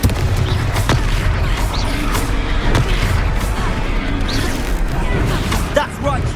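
A Confringo spell blasting in Hogwarts Legacy on PS5, loud booming impacts amid constant combat noise, with voices shouting during the fight.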